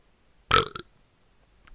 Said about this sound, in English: This is the one with the burp.